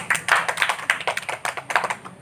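A small group clapping hands during a classroom group-guidance activity, quick uneven claps in a short burst that fade toward the end, close and dry.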